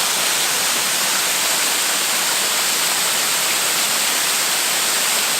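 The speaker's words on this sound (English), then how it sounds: "I've now arrived at the last waterfall of this trip to Lumsdale Falls, and it's this one right here." Lumsdale Falls, a waterfall in Matlock, roaring as a steady, loud, unbroken wash of falling water with no voices over it.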